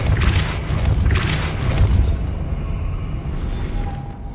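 Depulso force spell cast in Hogwarts Legacy: two heavy booming blasts in quick succession, then a fading magical whoosh with a faint shimmering ring at the end.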